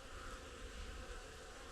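Honey bees in a big winter hive cluster give off a dense, continuous close buzzing drone, loud and unbroken with no voices.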